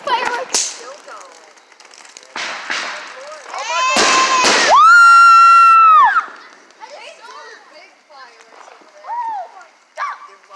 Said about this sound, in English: doing fireworks. Still going.